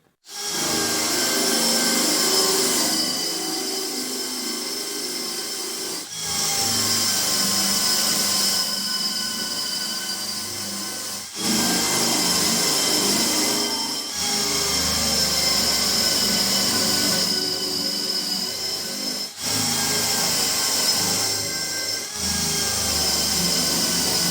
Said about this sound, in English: The next step is to drill the holes for our ladder rungs.